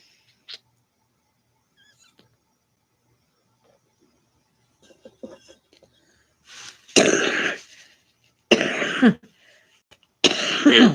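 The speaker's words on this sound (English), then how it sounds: "Sorry about the coughing." Three harsh coughing bursts close by, spaced a second or so apart, after a stretch of near silence with faint rustling.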